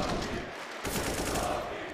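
Gunfire in a Counter-Strike esports match, with rapid, dense bursts of shots crackling back to back through a short, loud stretch of play.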